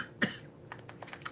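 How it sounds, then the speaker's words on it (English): A single short cough, quiet and close, followed by faint soft clicks and small rustles. "That was a real cough."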